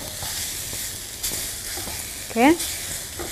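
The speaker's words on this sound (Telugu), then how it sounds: "ఫస్ట్ దీన్ని ఫ్రై చేసుకోవాలి తర్వాత దీంట్లో మనం సన్నగా తరుక్కున్న ఉల్లిపాయలు వేసేసుకుందాం" Onions and pieces of lamb fry in a pan for lamb burgundy, a steady broadband sizzle with stirring scrapes, close and fairly loud, with a brief spoken word partway through.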